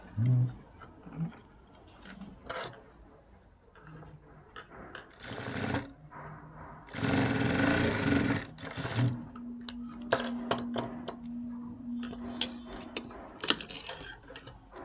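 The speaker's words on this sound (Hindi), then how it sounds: "अब हम इसको सीधी सिलाई लगा देंगे इस पर फिटिंग की" A sewing machine stitches the seam of a blouse sleeve in several short bursts, a dense close whirring between pauses, with light clicks and handling noises in the gaps.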